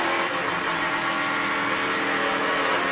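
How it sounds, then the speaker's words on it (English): A stock race car engine keeps running after an ignition problem, a steady mid-pitched drone holding at constant level with faint whirring and no speech. "That you hear the car still running"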